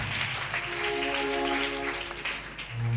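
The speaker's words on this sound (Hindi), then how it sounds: "आइए ताली बजाएं और बैठ जाएं।" A church congregation at a Friday meeting claps together in steady, dense applause throughout, fairly loud and close, with a sustained tonal hum of music or voices underneath.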